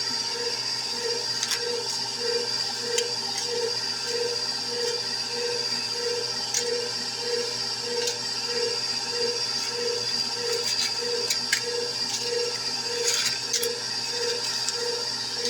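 Steady mechanical whir of a stand mixer running on medium speed, mixing chocolate cake batter, with a continuous motor hum and a faint rhythmic pulsing of the beater, no talking.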